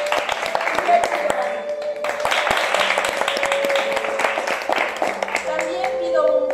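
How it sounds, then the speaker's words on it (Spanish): An audience in a theatre applauds at the curtain call, dense, sustained clapping that goes on throughout and rings loud and close, with voices cheering over the top. "También pido un fuerte aplauso para Luis Daniel Arévalo, quien es nuestro director."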